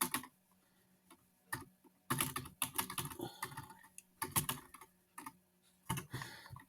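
Quick bursts of clicking keystrokes on a computer keyboard, close and crisp, with short pauses between clusters of typing.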